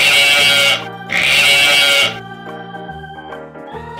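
A McDonald's Happy Meal toy sheep gives two loud, buzzy electronic bleats, then a quieter run of lower, humming tones, close by with no talking.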